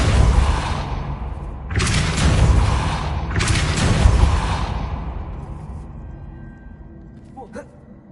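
Two heavy, whooshing blasts of the Depulso spell in Hogwarts Legacy burst out loudly one after another, then fade into a quieter tail with faint ticks.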